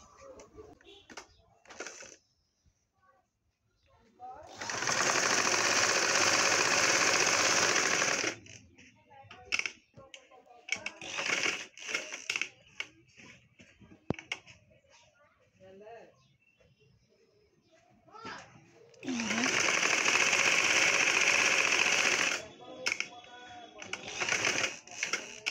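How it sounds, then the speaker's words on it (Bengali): A sewing machine stitches the front neckline of a round baby frock in two sustained runs of several seconds each, separated by quieter handling sounds and pauses. "এখন আমি সামনের গলাটাও সেলাই করে নিব"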